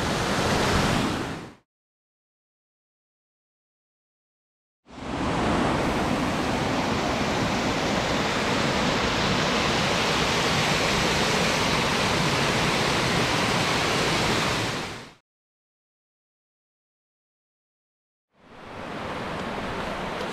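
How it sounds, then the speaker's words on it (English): Leets Brook lower waterfall in Nova Scotia roars as a steady, dense rush of falling water, broken by abrupt gaps of silence. "Have a look here, Leets Brook Fall, Lower Fall."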